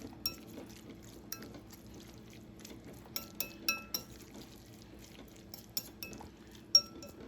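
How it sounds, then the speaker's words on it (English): A spoon stirs a tuna and celery mixture in a bowl, giving faint, scattered clinks and taps against the dish over a quiet background. "Now after you give that a good stir up, you got all your tuna and your celery in here."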